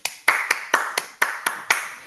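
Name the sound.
applause after a presentation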